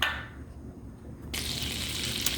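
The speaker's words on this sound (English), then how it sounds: "Now that the butter's sizzling, it's time to add the steak." A faint crackle fades, then a bright, steady sizzle of butter in a frying pan, ready for sirloin steak, starts abruptly and holds, close up.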